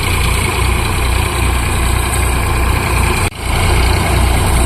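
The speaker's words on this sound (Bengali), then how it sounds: "হারভেস্টার এসছে, ওই দিকে কাজ করছে।" A combine harvester cutting wheat in a field runs with a steady, loud, low engine drone and a constant hum, broken once by a brief dip before resuming.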